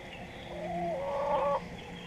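A hen in a backyard flock in Starkville, Mississippi gives one drawn-out, wavering call lasting about a second, moderately close over quiet outdoor background.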